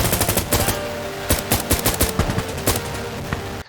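Rapid M1 Garand rifle fire in the video game Insurgency, heard as a string of loud, sharp shots in irregular bursts with more distant gunfire mixed in, then a sudden cutoff.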